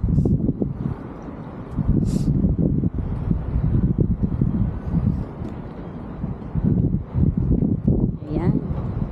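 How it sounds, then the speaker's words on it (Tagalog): Wind buffets the microphone outdoors, a steady rumbling roar across the whole stretch with a few stronger gusts, while a person talks over it. "Pasensya niyo po, mahangin."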